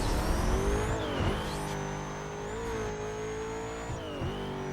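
Race car in Need for Speed: Most Wanted (2005, PS2) on a bumpy course, its engine droning and revving steadily with pitch dips as it takes the bumps, loud and up close with no talk.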